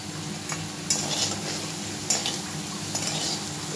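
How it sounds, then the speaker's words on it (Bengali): Cauliflower curry, cooked in milk with a mustard-seed tempering, is stirred in a hot pan: a steady sizzle with a few sharp spoon scrapes against the metal. No one speaks. "দুধ দিয়ে ফুলকপিটা রান্না করছি"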